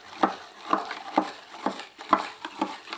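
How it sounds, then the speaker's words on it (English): A bar spoon mixing crushed ice in a cup for a non-alcoholic gin and elderflower julep, with a steady run of regular crunchy scraping strokes close by, about two per second, and no talk. "get my spoon in there and use it to give this a good old mix"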